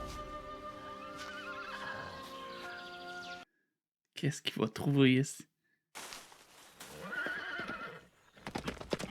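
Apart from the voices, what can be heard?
horse neighing and hooves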